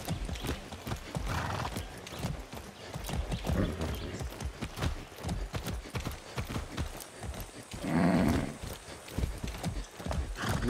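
Horse hooves clip-clop in a quick, steady rhythm in the video game Far Cry 6, close and clear, with a brief whinny partway through.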